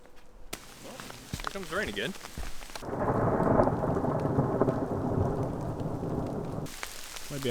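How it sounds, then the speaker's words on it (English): A heavy outdoor thunderstorm during winter tarp camping, with rain hammering down on a tarp beneath a cedar tree, a loud rumble of thunder, and an earlier stretch of quieter, scattered noises. "Well, here comes the rain again."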